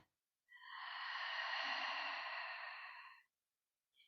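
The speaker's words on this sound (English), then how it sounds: "Breathing in through your nose, breathing out through your mouth." Slow, deep breath drawn in through the nose and released out through the mouth during a restorative yoga and chakra meditation, one long steady airy exhale lasting about three seconds in an otherwise quiet room.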